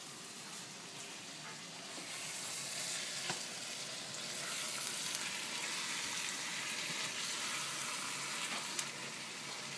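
Potatoes frying in a pan for Cuban picadillo with beef, giving a dense, steady sizzle that stays close and even throughout, with a few small clicks and no talk.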